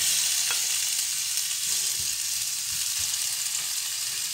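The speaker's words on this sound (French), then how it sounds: "au moment où on sent que c'est chaud, parce que j'entends un petit bruit, on vient déposer les oignons" Onions searing in hot oil in a frying pan, a continuous loud hiss and crackle throughout with occasional low knocks from stirring, close up and with no speech.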